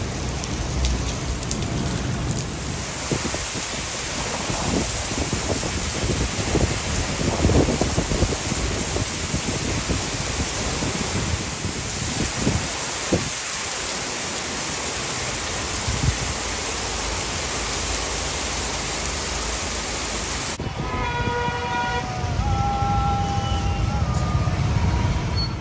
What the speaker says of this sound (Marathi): चाकणमध्ये वादळी वारे आणि विजांच्या कडकडाटात मुसळधार पावसाने अशी दैना केली